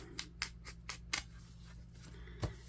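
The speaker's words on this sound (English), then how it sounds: "We'll use our scissors" Scissors snip through paper card in a quick series of crisp, close cuts, about six distinct snips followed by a brief pause and a soft thud, with no talking.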